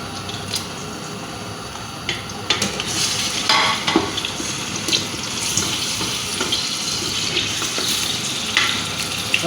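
Meat cooks over a stove in a mix of oil, ghee and fat, making a dense, continuous close-up sizzle broken by sharp clinks and stirring scrapes.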